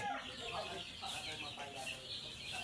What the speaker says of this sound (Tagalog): dito muna ako sa mga sisiw, silip-silip